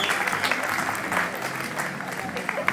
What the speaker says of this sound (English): Will you give them a hand?